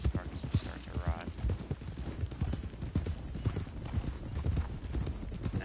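Horses galloping in the Red Dead Redemption 2 video game: rapid, rhythmic clip-clop hoofbeats close by, with a brief neigh early on, under someone talking throughout.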